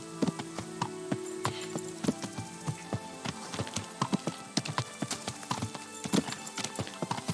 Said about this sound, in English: Oh, there's another horse.